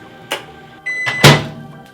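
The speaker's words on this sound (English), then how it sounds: "I already put mine in the microwave." A microwave oven melting butter, its door thunking open and shut around a brief steady hum, with a short beep-like tone and clatter close by.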